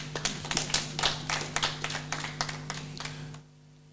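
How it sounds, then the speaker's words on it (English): A small audience at a post-budget symposium of a manufacturers association claps for the Secretariat, a run of fairly sparse, distinct handclaps over a steady background hum that stops abruptly after about three seconds. "I was hoping that somebody would clap for the Secretariat"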